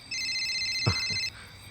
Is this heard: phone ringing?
yes